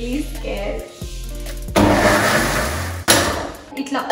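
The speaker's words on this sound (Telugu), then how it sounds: "నాకు ఎప్పుడు వెట్ ఐటమ్స్ ఇట్లా గ్రైండ్ చేయాలంటే చాలా భయం వేస్తుంది, బికాస్ దే మైట్ స్పిల్ అని" A kitchen mixer grinder whirs through wet chocolate cake batter in a few separate pulses, starting with a lower motor hum and then rising to a louder, rougher grinding roar before stopping and restarting near the end.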